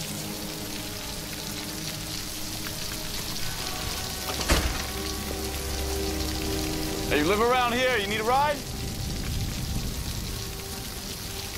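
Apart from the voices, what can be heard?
rain falling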